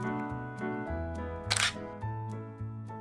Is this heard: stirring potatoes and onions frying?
no